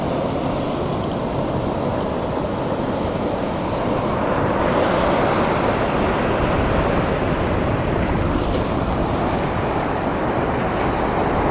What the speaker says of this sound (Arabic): والبحر ها هو شو كيجي البحر.